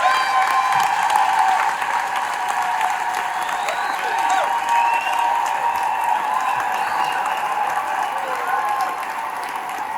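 A crowd at a Donald Trump rally-style event applauds Clay Clark with continuous, even clapping and scattered cheers, while voices carry faintly through the steady roar.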